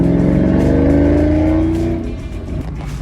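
A Shelby Mustang GT500 engine revs hard from inside the car, a loud, close, rising growl that climbs in pitch for about two seconds before easing off into a rougher lower rumble.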